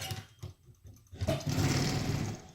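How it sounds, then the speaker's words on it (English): A CO-Z 12x15 6-in-1 heat press grinds as its pressure is released: a short low rumble, a brief pause, then a louder, harsh, sustained scraping that carries on to the end, close by and alone. "when you release the pressure, this and this grind together"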